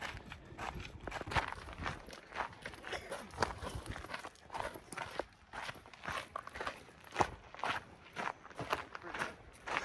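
Footsteps on a 3-mile hike down the Bar Trail, quiet irregular crunching steps on dirt and gravel, close and continuous, with no talking.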